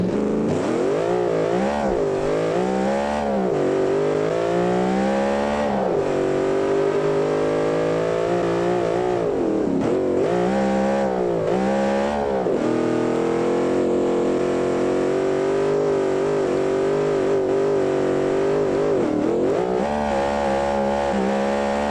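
Sports car built in the driving game Automation, British-style, sits at an aggressive, lumpy idle and revs up and down repeatedly, loud and close with rising and falling engine pitch, no talking.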